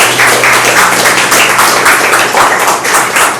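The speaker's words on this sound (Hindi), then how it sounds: "जोरदार ताली हो जाए" Loud, close applause from an audience at a medical acupuncture health session in Surat, a dense steady patter of many hands clapping with regular pulsing, heard alone without talk.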